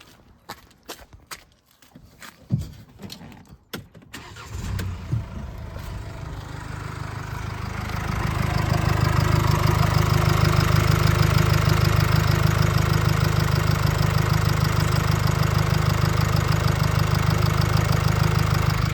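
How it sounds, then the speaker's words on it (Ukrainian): A few clicks and rustles, then a 2020 Mercedes-Benz Vito ExtraLong van engine cranks and starts, settling into a steady, fairly loud idle that runs on evenly. "Моторчик працює чудово, рівненько."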